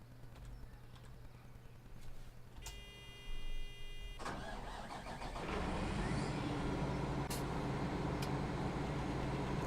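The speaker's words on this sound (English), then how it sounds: "Let's start the engine up and listen to the engine." A Krone Big M 2017 mower's large engine in Farming Simulator 17 cranks and starts after a few clicks and a brief electronic chime, then settles into a loud, steady rumbling idle.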